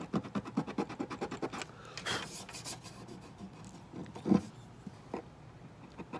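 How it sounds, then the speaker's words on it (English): Rhythmic back-and-forth scraping of sandpaper on the wooden bridge of a vintage Gibson J30 guitar, quick strokes at first, then slower rasping passes with a few knocks. "I'm just going to sand over it carefully"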